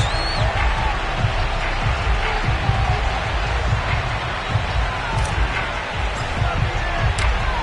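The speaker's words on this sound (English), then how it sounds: "Somehow this place got even louder a short time ago as the Falcons were introduced to this sellout crowd." Sellout stadium crowd in the Madden NFL video game, Falcons versus Broncos, roaring in a dense, continuous wash of cheering and applause with no breaks. Light whistles and shouts come through near the end.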